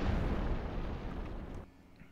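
Default blaster weapon firing in an Unreal first-person shooter game, a single heavy boom-like burst with a rumbling low tail that decays over about two seconds, loud and alone.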